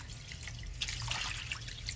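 Fish is rinsed clean with salt and water, giving quiet trickling and dripping with a few brighter splashes near the middle, under a low steady hum.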